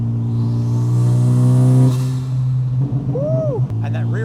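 A 600 hp Honda Civic Type R with a Tomei exhaust accelerates hard, its loud engine drone climbing steadily, then dropping on a shift, with a voice cheering briefly near the end.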